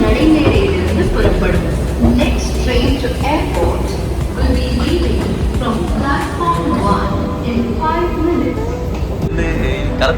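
A Delhi metro train rumbles along with steady low rolling noise and rattles, while people talk nearby over the ride.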